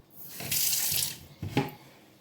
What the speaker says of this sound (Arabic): وغادي نزيد واحد شويه الماء باش راني نروي غير شويه، ما غاديش نكثر